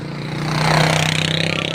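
A fish vendor's motor tricycle putters past with a steady buzzing engine drone that swells as it nears, heard outdoors in a residential area with no one talking.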